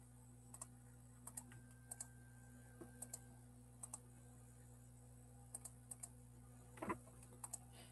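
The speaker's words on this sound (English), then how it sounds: "Let me type this" Sparse keystrokes on a computer keyboard, single taps and short pairs of clicks spaced irregularly over a steady low electrical hum, close and quiet with no talking.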